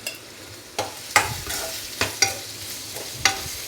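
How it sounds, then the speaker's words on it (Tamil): Mango pieces with chilli powder and salt fry in oil while a spoon stirs them in several distinct scraping strokes over a soft background sizzle, close and clear. "நல்லா மிளகாத்தூள் சேர்த்துட்டு எண்ணெயிலே கொஞ்ச நேரம் வதங்கட்டும்"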